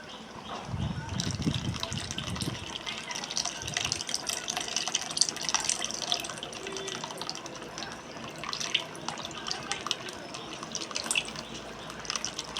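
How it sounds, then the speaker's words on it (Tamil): Tamarind water, dissolved beforehand, pours into an okra curry in a home kitchen, giving a steady liquid splashing and trickling that lasts the whole stretch, with a brief low burble near the start. "இப்போ கரைச்சி வச்ச புளியை சேர்த்துக்கலாம்"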